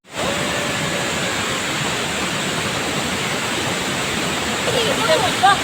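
Water pours loudly and continuously at a waterfall on a beach, a dense, close roar of rushing water that holds steady throughout, with faint voices surfacing briefly near the end.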